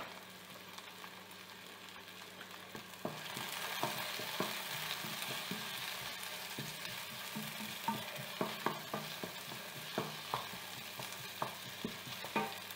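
Precooked snails frying and being stirred in tomato sauce: a steady hiss that jumps in loudness when they go into the pan, then sizzling under frequent soft scraping and clicking of a spoon, close and fairly quiet.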